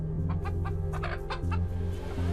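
A chicken clucks in a series of short, repeated calls, close and fairly loud, over a steady low hum, during a traditional healer's treatment in Cameroon.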